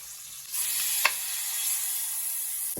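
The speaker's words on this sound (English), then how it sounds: "Into that butter, I'm going to add some minced garlic." Minced garlic starts sizzling in half a stick of melted butter after a quiet half second, a steady close hiss with a single small clink near the start of the frying.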